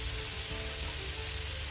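Onions and carrot sauté in a pan for a tofu scramble, giving off a steady, even sizzle with no talk over it.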